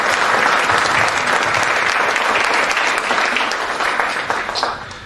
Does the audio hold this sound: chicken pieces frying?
no